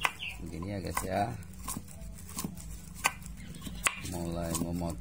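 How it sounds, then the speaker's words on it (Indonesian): Carrots are chopped into thin rounds on a cutting board for Indonesian chicken soup, giving sharp, irregularly spaced knife taps close by while someone talks throughout. "mulai memotong wortelnya."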